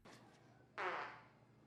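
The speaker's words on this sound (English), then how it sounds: "She just farted." A single fart bursts out about midway, a brief, breathy and moderately loud blast against otherwise quiet surroundings, with no voices over it.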